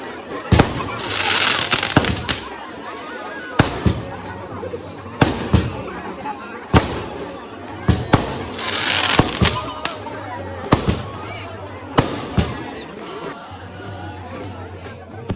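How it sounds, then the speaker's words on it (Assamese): Fireworks and firecrackers burst repeatedly at a Doul festival celebration at Hati Satra in Sualkuchi, with sharp loud bangs at irregular intervals over a steady crowd chatter and some talking. "আতচবাদীত বহুতে ফটকা ফুটালে"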